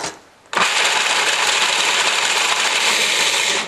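A food processor chops nuts for a raw blueberry pie, starting abruptly into a loud, steady, close grinding whir with a gritty rattle that holds at full strength until it cuts off.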